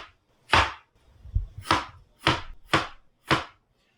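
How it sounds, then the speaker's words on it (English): Quartered carrot being sliced thin with a knife on a cutting board; six crisp, separate chops land close and clear at an uneven, unhurried pace with short quiet gaps between. "Quarter them up and then slicing them fairly thin"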